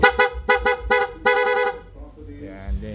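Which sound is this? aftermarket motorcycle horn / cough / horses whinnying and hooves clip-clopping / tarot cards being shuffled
aftermarket motorcycle horn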